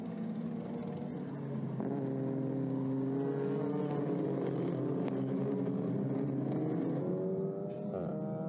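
Touring cars racing in a TCR Benelux and Europe event at the Hungaroring, engines droning loud and steady with rising and falling pitch as cars accelerate and shift, several machines overlapping in a continuous roar without talk.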